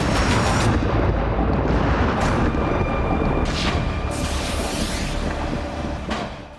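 Drone strike explosion at the Ryazan oil refinery, a loud sustained roaring blast with dense low rumble that holds steady for several seconds before slowly fading, with no voices.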